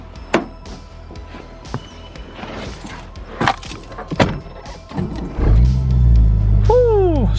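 A Mazda 13B rotary-engined truck cranks and fires up near the end, settling into a loud, steady idle with a rising whine after scattered clunks and knocks.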